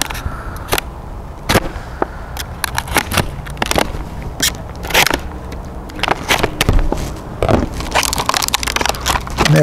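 Heavy-duty plastic packaging around a Nalgene bottle light is pried open up close, with irregular loud crinkles, sharp cracks and snaps between quieter rustling.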